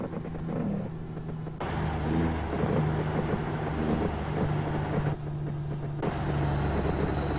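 Kenworth T600 truck loaded with gravel, its engine pushed hard under load, a loud, droning rumble with shifting pitch and brief drops in intensity, heard from inside the cab.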